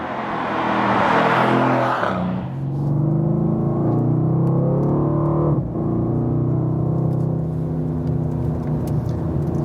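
A Mercedes-AMG C63 S Coupé on the Bilsterberg racetrack in Germany, a loud whooshing pass at first, then a steady engine drone with shifting pitch as it drives on, no talk.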